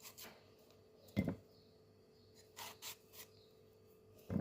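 A knife slices into a fresh mango with a few soft, short scraping cuts spaced irregularly, quiet and close with no talking.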